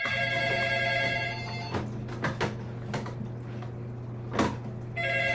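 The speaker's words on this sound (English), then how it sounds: "somebody getting a phone call." Telephone ringing with an incoming call in a meeting setting, electronic ring bursts at the start and returning near the end, with clicks and knocks in between, fairly quiet.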